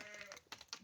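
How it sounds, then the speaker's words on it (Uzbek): Sheep on a farm bleat in short, close calls, two or three quick nasal cries in under a second with small gaps between them. "Mana qo'yimiz qaranglar akalar."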